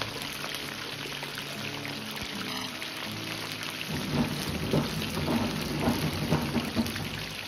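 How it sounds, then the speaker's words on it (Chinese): Small yellow croaker pieces deep-frying in hot oil over medium heat, a dense, steady crackling sizzle that swells louder and busier midway through, with no one speaking. "保持中火炸至1分半钟左右，把鱼肉先炸熟炸透。"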